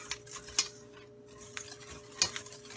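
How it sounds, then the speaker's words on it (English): Sugar cream pie filling whisked by hand in a bowl, a few distinct clinks and scrapes of the whisk against the bowl at a steady close range, with a quiet gap between strokes and no talking. "if you just do this by hand and whisk it, it'll take you a while"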